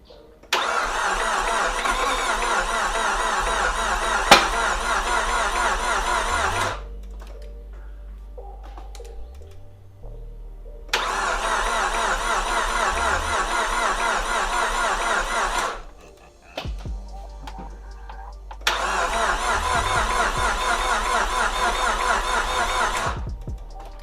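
A Nissan S13 200SX being built at home cranks on a first startup attempt, three long starter-motor bursts of several seconds each separated by quiet pauses, loud and close, without catching.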